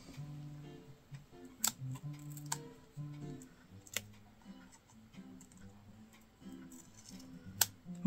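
Paper for a small handmade notebook being cut, quiet crisp snips and clicks at an irregular pace, close and soft, with light handling noise in between.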